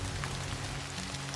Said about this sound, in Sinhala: මේ උදේ ඉඳලා ඇදහැරෙන චිරි චිරි වැස්ස